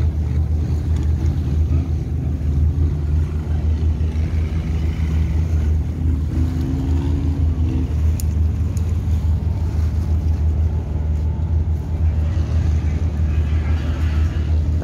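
A tour boat pulls toward the pier at Koh Phi Phi, Thailand, a steady low engine drone with water wash, loud and continuous while people talk nearby.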